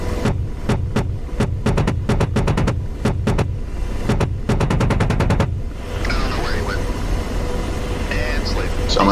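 Loud, close gunfire from an AH-64 Apache in the DCS flight simulator: a stretch of separate heavy shots gives way to a rapid burst, and then the engine and rotor drone takes over.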